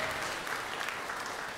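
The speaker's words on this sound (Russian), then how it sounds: "Давайте поаплодируем." An audience applauds steadily for a newly married co-host at a New Year special comedy talk show, a dense wash of clapping hands at even loudness throughout, without talk.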